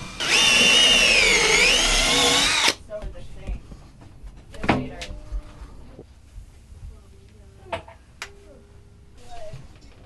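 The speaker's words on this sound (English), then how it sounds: "we're getting ready to attempt to drill some holes through this" A loud, steady whine of a drill biting into hard quartz for a couple of seconds, then it stops, leaving quieter clatter and shuffling.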